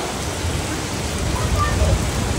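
Heavy monsoon rain falls steadily on a home's yard, a dense, even wash of noise with faint low rumbles underneath, continuous and close throughout.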